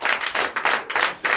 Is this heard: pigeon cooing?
no